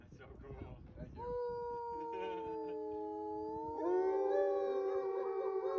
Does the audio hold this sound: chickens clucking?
no